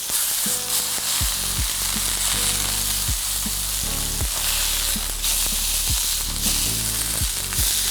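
Beef tenderloin medallions searing in a hot pan, a loud, steady, close sizzle that runs the whole time, with occasional low thumps and shifts as the meat moves, no voices.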